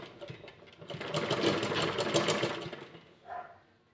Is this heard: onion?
no